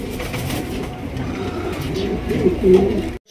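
An Andalusian beauty pigeon coos in a low, steady, close murmur on a pigeon farm, with a faint voice briefly underneath.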